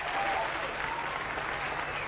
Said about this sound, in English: I can't help but clap along with the crowd that had formed around him